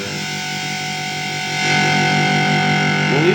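A Systech Overdrive Treadle guitar pedal produces a steady, loud, thick distorted guitar tone that sustains throughout and swells slightly louder midway, with no talking.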